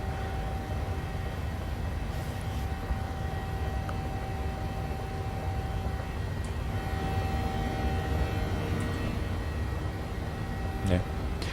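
Boeing 737 engines at climb thrust in Microsoft Flight Simulator 2020 produce a steady, unbroken cockpit roar that holds at moderate level throughout, with faint tones beneath and no talk.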